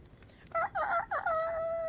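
A human voice imitates a rooster crowing as a wake-up call, giving one loud, drawn-out call in three rising and falling bursts that ends in a long held note.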